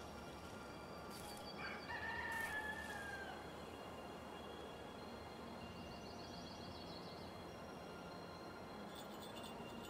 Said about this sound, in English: I've got a heap of birds outside at the moment